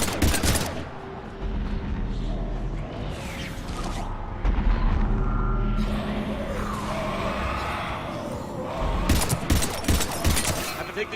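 Sustained gunfire in a Mass Effect 3 firefight against husks, dense bursts and impacts layered with game music and effects throughout, loud and busy with shouted squad voices mixed in.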